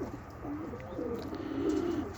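Pigeons coo softly in low, rolling murmurs, a close and continuous bubbling call that swells slightly toward the end over a faint outdoor hiss.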